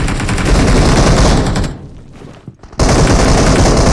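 Loud, close bursts of rapid automatic gunfire in PUBG Mobile, a sustained volley that cuts out briefly and then resumes, with no talking.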